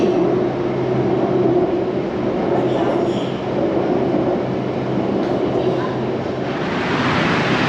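A Bangkok metro train rumbles into a station, a loud, steady roll of wheels with brief metallic squeals as it slows.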